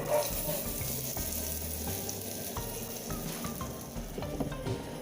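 Tempering spices and curry leaves sizzle and crackle steadily in hot oil for coconut chutney, a continuous frying hiss with occasional clinks from a pan and utensil.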